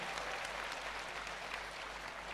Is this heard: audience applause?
yes